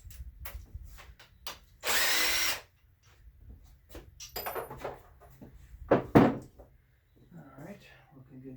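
A power tool spins off a 15 mm bolt from a GM 2.4 Twin Cam engine in one loud burst of about a second, surrounded by clinks, ratchet clicks and handling noises, with someone talking nearby.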